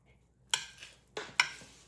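Spicy chili noodle salad tossed in a bowl with utensils, a few close, bright clinking and scraping strokes in separate bursts, moderately loud with no talking.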